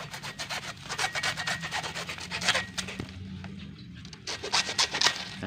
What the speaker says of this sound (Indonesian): sekarang saya akan memotong tanaman lengkeng ini dengan menggunakan gergaji